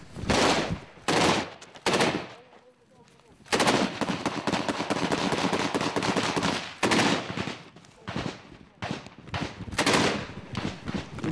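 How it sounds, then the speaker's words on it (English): Bursts of small arms and machine gun fire near frontline trenches, loud rattling volleys broken by short pauses, close and intense. "We've just come under fire in the trenches"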